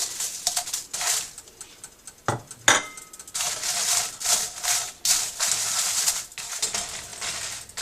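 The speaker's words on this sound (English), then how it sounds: "Now in the same pan I'm going to dry roast red chili." Red chili being dry roasted in a pan for Mangalorean chicken curry: dry scraping and rattling of pods against the metal, with intermittent clinks of a spoon or spatula, close and fairly loud throughout.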